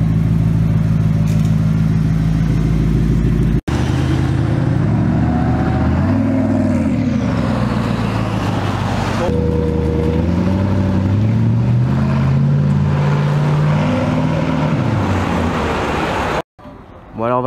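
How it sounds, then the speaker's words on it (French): A Koenigsegg Agera hypercar engine hums loud and steady at close range, with pitch rising and falling as it revs, while people talk over it. "Écoutez ce ronronnement. Koenigsegg Agera."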